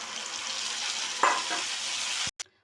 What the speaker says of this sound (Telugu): ఎండుమిర్చి వెల్లుల్లి ఆనియన్ కరివేపాకు పులుగుర పోసేసుకోవాలి